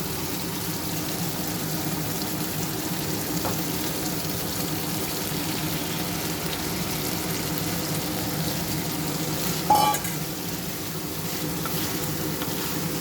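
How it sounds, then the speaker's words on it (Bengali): Vegetables fry with sour yogurt in a pan for veg biryani, a steady soft sizzle that continues throughout with a brief clatter near the end. "কষানো হয়ে গেছে, আমি এবার এর মধ্যে সবজিগুলো সব দিয়ে দেবো।"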